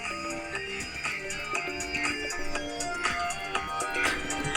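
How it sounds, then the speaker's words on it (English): Stock ringtone on a Xiaomi Mi 9 SE phone, a bright rhythmic melody of repeating tones and beats playing steadily at moderate volume, with no voices. "You can select one of those ringtones, or this one, my all-time banger of XIAOMI."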